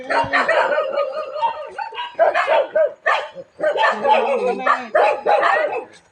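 Dogs bark repeatedly in loud, overlapping bursts, with some yips and whimpers mixed in, close by.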